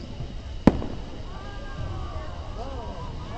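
Confetti fireworks at an outdoor fireworks show in Hot Springs, Arkansas, give one sharp pop followed by a fading crackle and a faint rising whistle, with distant crowd murmur underneath.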